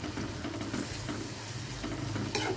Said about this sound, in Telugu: ఇప్పుడు బాగా వేగాలండి.